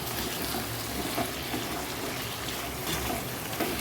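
Running tap water splashes onto a face beside a kitchen sink. The splashing and rushing stay steady and close, with no talking.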